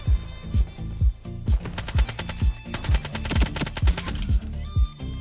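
Assault rifle fire in the shooter game Ironsight, heard as rapid, evenly spaced, punchy shots with a low thump on each round, delivered close and loud in short bursts.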